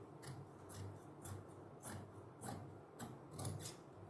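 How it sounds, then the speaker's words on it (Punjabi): Scissors snip through two-layer suit fabric with lining in a steady run of about eight crisp cuts, close and fairly quiet, with no talking. "ਹੁਣ ਆਪਾਂ ਇਹਦੀ ਇਥੋਂ ਕਾਟ ਪਾ ਦਿੰਨੇ ਆ"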